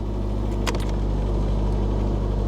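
An old Chevy truck engine keeps running with a steady low rattling rumble, close by, with a brief clatter partway through and no voices.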